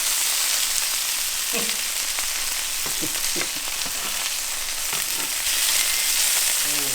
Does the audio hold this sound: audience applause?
no